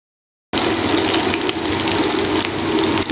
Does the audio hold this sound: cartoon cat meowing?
no